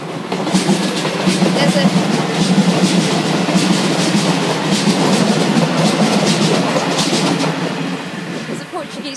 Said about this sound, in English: Oh, and here comes the train.